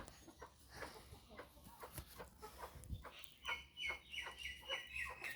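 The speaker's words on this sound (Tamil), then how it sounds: "எங்கள் கோழி பார்த்துக்கிட்டிங்களா எங்கே போடுது பாருங்க" Hens in a backyard give soft, repeated clucks in short bursts. A brighter, rising cackle builds toward the end, all at modest volume close by.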